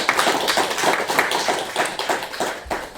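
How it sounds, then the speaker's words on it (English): An audience at a game developer meetup presentation claps, a dense patter of many hands that tapers slightly over a few seconds. "Round of applause for Tintin."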